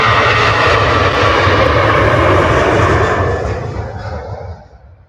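A Ryanair airliner departs from Manchester Airport, its jet engines roaring loud and steady with a low rumble, then fading over the last seconds as it moves away.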